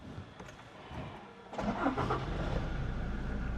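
An automatic Toyota Fortuner 4x4 engine cranks with a brief whir, then catches and settles into a steady, close idle rumble.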